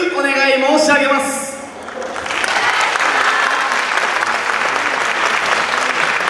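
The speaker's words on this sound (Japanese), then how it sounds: "どうか皆様温かい手拍子、心拍子、そしてささなら拍子、どうぞよろしくお願い申し上げます。" Audience applause at a yosakoi dance festival, preceded briefly by a voice over a PA; a loud, steady wash of clapping from a crowd that fills most of the stretch.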